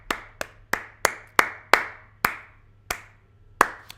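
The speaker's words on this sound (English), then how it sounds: "hand clap." A single pair of hands claps about ten times in an irregular rhythm. The claps are sharp, close and distinct, with a faint hum underneath and no talking.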